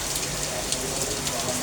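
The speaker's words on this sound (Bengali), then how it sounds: "হঠাৎ করে কত জোরে বৃষ্টি আসছে" Heavy rain pours down in a steady, dense hiss of falling water with scattered drop patter, heard close and continuous over a short stretch.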